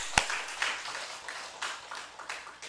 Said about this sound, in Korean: 자 하나님께 영광의 박수 올리겠습니다